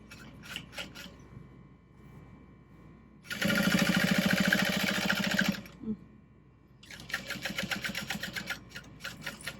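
A sewing machine back stitching seams on a fabric tote bag, with short rapid bursts of needle chatter, then a longer loud steady run, a pause, and another run of stitching, no voices.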